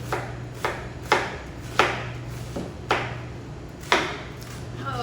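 A knife chopping through fresh cabbage for sauerkraut, about eight crisp, separate cuts in a steady rhythm, close up, with a low constant hum underneath.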